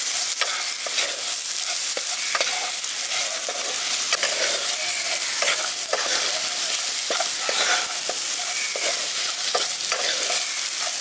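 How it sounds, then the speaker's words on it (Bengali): Papaya pieces with salt, turmeric and ground spices are stirred in a frying pan, a steady sizzle throughout with repeated scraping strokes of a spoon, close and loud, no voices. "নুন আর হলুদটা দিয়ে ভালো করে দেখুন আমি এটাকে মিশিয়ে নিয়েছি।"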